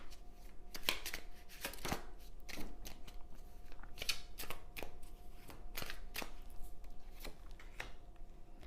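Oracle cards being shuffled by hand: quick papery slaps and riffles in an irregular rhythm, close and fairly quiet, with no voice.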